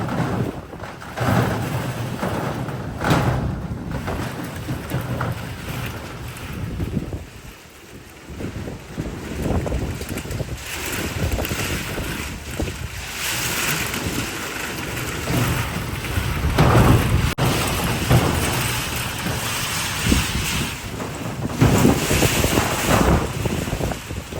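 Strong wind buffets and roars across the microphone continuously during a village storm in Pakistan, with a steady wash of rain hiss underneath, loud and unbroken throughout.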